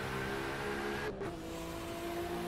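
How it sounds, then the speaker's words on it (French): A turbocharged car engine in the racing game Assetto Corsa drones steadily at cruising speed with a whistling turbo tone, the pitch dipping briefly midway before settling, moderately loud with no talk. "Ouah, le turbo, c'est un truc de dingue."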